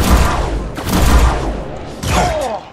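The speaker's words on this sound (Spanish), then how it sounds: "Y así doble disparo." Two heavy gunshots fire in quick succession in the post-apocalyptic tactics game Mutant Year Zero: Road to Eden, each a loud booming blast with a short rumbling tail, close and unaccompanied by talk.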